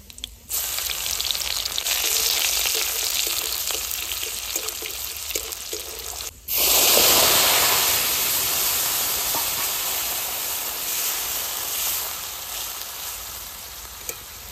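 Dried red chillies, nigella seeds and garlic hit hot oil in a Bengali kitchen, making a loud continuous sizzle. The frying briefly drops out, then surges back even louder and crackling as the pan is stirred.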